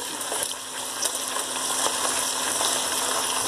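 Peppers, white onions and cilantro sautéing in virgin olive oil for steak and onions, a steady, close hiss and crackle of frying with small pops scattered throughout, no voices.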